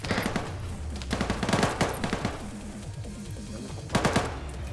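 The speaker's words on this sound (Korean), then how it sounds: "어디서 쏘는데 안 보이냐?" Bursts of automatic gunfire from a Korean clan-operation shooter game, clattering volleys with short gaps, a dense run early, then another loud burst near the end, with no talking.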